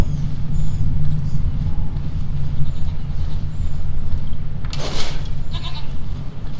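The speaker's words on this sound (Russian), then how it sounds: "козы" Goats bleat over a steady low rumble of outdoor noise, with a brighter burst of bleating near the end; no one speaks.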